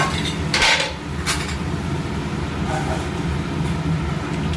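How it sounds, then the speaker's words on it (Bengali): Lentils for dal poured into a pan of oil-fried spices, heard as a steady hiss and sizzle with a couple of bright clatters at the start, close and continuous throughout. "এবার ডালটা ঢেলে দিচ্ছি এই ডালটা দিয়ে দিলাম"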